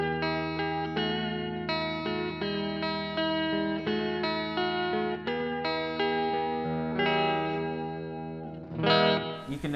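Source Audio Collider pedal in its reverb modes, sustained guitar chords ringing out with lush, shimmering decay, a series of strums each blooming and trailing off, clean and close with no talking.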